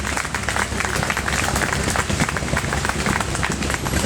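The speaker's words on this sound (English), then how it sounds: "They need a big round of applause" A crowd claps and applauds steadily throughout at an outdoor parade, dense and continuous, moderately loud.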